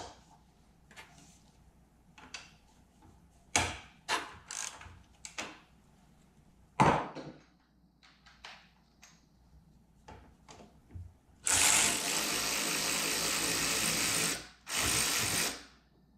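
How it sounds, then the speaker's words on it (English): Ratchet clicking as bolts come off a 2011 Suzuki GSX-R 600 so the fuel tank can be raised, heard as scattered short mechanical bursts followed by a louder, steadier grinding stretch near the end. "How we're going to do that is remove this bolt and this bolt."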